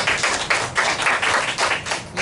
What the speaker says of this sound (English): Now, give him a good clap.